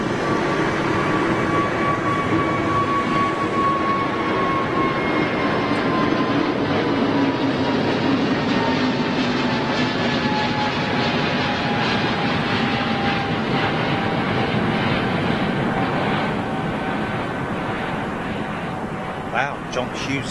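A Boeing 777 rolls down the runway at London Gatwick Airport, a broad steady engine roar with slowly falling whine tones, loud and continuous, fading slightly near the end.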